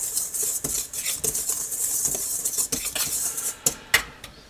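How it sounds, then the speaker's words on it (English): A metal whisk clinks and scrapes around a bowl, stirring flour, salt and yeast for deep dish pizza dough, with quick irregular taps and rattles at close range. "we're just going to whisk it all together."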